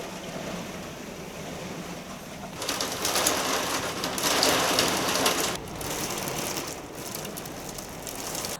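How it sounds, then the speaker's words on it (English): Rain from a UK storm falls steadily on surfaces, swelling louder in gusty bursts partway through, with faint bird calls in the background. "we've had quite a few storms recently in the UK"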